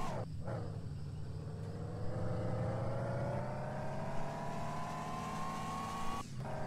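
Mazda RX-7 in the game Car For Sale Sim 2023 accelerating hard on a test drive, engine note climbing steadily for several seconds in first gear, with gear shifts near the start and end.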